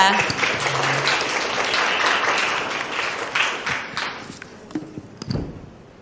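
An audience at the 2021 Social Innovation International Conference session on care and community applauds to welcome a centre director. The clapping is moderate and thins out into scattered claps and taps toward the end.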